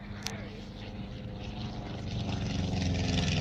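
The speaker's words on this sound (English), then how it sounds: "Final pass then from this aircraft, the only example still flying." A Levere Cosmic Wind, a post-war Formula One class racing aircraft, makes its final pass at the Duxford autumn air show, its propeller engine drone swelling from moderate to louder as it nears, with faint voices underneath.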